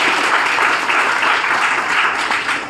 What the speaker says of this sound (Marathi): त्या सरांसाठी एकदा जोरदार टाळ्या वाजवा.